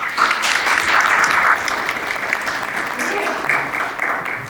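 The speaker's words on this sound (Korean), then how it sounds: "박수로 환영해 주시기 바랍니다." A seminar audience claps to welcome a professor taking the lecture stage, a moderately loud, continuous round of applause that softens slightly toward the end, with a faint voice underneath.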